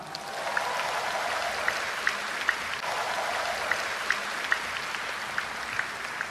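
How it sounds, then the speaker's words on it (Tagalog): A congregation at a healing message gathering gives a long round of applause, a steady, even roar of many hands clapping that holds at a constant level throughout. "Malakas kong pumalakpak."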